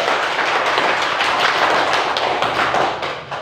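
An audience clapping together at the close of a gathering, a steady, close and even wash of many hands for a few seconds, tapering off slightly at the end.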